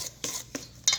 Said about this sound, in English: Okay, I'm going to mix this together.